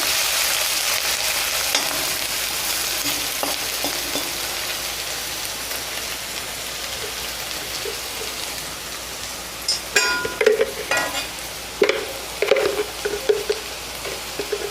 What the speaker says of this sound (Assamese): এইখিনি অকণমান সময় ভাজি লৈ